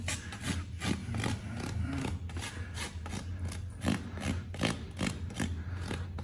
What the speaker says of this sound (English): if you do lightly rasp it away